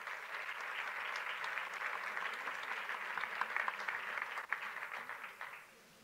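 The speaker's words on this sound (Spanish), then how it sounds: "Un fuerte aplauso para él." Audience applause for a sports council president at a women's basketball league season presentation, steady sustained clapping from a seated crowd with no voices over it, tapering off at the close.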